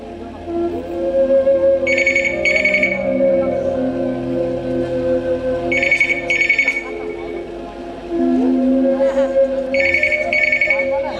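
A telephone ringtone sounds in three bursts of paired rings spaced about four seconds apart, loud over a low background melody, with voices heard under it.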